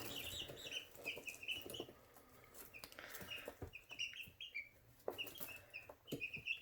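Several chicks or young chickens in a brooder cluck and peep after breakfast, a busy, fairly faint chorus of short repeated chirps and clucks with scattered rustling and no talking.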